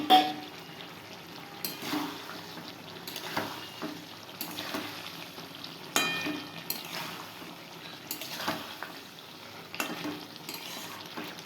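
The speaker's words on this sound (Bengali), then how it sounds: "আলুটা দিয়ে একটু কষিয়ে কষিয়ে নামিয়ে নেব।" Potato pieces frying in oil while being stirred in a pan, a soft steady sizzle broken by repeated scraping strokes of a spatula, moderately quiet and close, with no talking.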